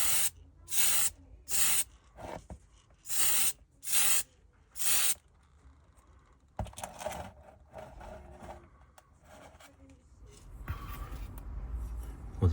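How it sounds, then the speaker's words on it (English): TS13 clear is sprayed from an aerosol can onto a diecast Dinky Toys Austin Devon model in six short hissing bursts, evenly spaced and close, followed by quieter handling and rubbing sounds. "this one is the TS13, which is just in the spray can here rather than on the airbrush. So let's just give this a little dust over with clear."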